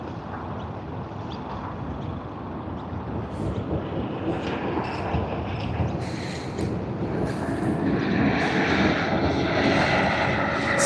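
A Singapore Airlines Boeing 777 at Sydney Airport gives a steady, loud jet engine roar that swells gradually over about eleven seconds, with a faint high whine rising toward the end.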